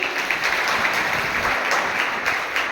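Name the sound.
applause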